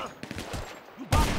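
Sniper rifle gunfire in GTA 5, several sharp shots scattered through the moment with a louder blast near the end, heard alongside game noise and some vocal sounds.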